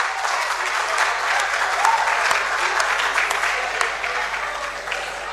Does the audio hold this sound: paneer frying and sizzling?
no